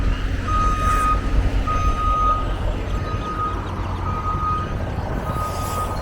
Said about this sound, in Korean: 맥이네요 맥 오, 멕시코하고 텍사스 왔다 갔다 하는 트럭이네요